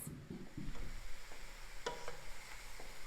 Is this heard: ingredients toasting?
yes